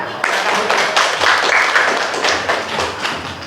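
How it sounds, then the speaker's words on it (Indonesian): Audience applause at a university arts and culture class session in Indonesia after a group performance: a dense, steady wash of many hands clapping, fairly close and loud, lasting a few seconds. "kasih tepuk tangan"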